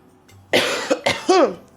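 A sick person gives a few harsh, hacking coughs in quick succession, close and fairly loud, with a throaty rasp at the end.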